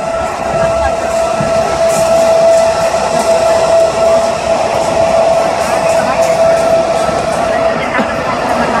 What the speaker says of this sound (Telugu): మన ట్రైన్తో పాటు ప్యారలల్గా గూడ్స్ ట్రైన్ వస్తుంది పక్కన